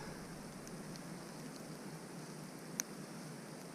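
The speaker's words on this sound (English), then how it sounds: "the rain's coming straight down" Steady rain falls straight down in a soft, constant hiss in a Scottish forest, with one brief sharp drip or tap near the end; no voices.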